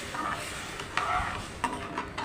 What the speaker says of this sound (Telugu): ఆ పాలను వేసుకుంటూ కలపాలి.